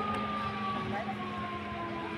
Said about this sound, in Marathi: ऑल क्लिअरचा सायरन आलेला आहे। एकाच आवाजात कंटिन्यू आहे।